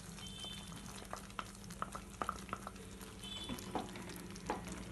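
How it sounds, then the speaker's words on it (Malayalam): Curry sauce for a restaurant-style white Nawabi paneer masala bubbles in a pan, giving a quiet steady simmer with scattered soft pops and clicks and no voice. "ഇതിപ്പോൾ തിളച്ച് വന്നിട്ടുണ്ട്."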